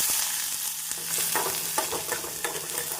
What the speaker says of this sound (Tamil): கடுகு பொரியவும் நறுக்கிய வெங்காயத்தை சேர்த்து விடலாம்.